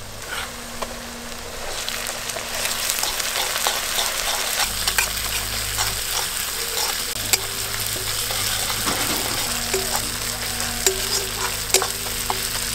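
Browned onions frying with cumin and black pepper paste in a pan, a continuous close sizzle with stirring scrapes and taps of a utensil running through it.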